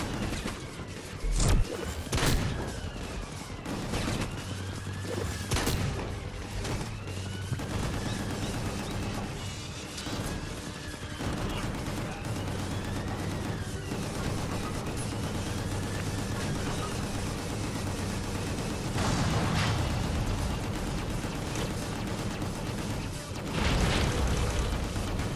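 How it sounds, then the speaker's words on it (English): Gunfire and explosions in the third-person shooter Gungrave G.O.R.E., with repeated sharp shots and heavy booms scattered throughout over a continuous bed of game noise and music. "So pretty much just shoot everything to get that B score up"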